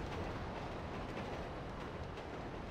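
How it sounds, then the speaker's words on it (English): A train in a video game rumbles with a steady, broadband roar, low and continuous throughout, fairly faint and with no talk over it. "Get on the train!"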